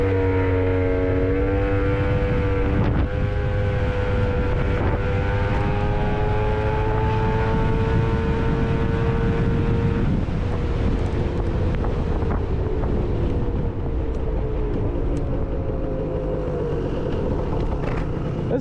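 Gilera Runner 180cc scooter with a Malossi exhaust, PM tuning head, cylinder, drive and reed block accelerating hard, a loud rising engine whine with shifting harmonics under heavy wind rush, continuous and close.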